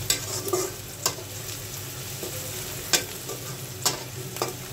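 Onions fry in a pan on the way to a fish curry with potatoes and raw tomato, a low steady sizzle broken by several sharp scraping stirs of the spoon at uneven intervals.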